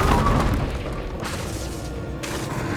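A Confringo fire-blast spell explodes in the Hogwarts Legacy video game: a loud, deep boom right at the start that rumbles and fades over a couple of seconds, with no talking.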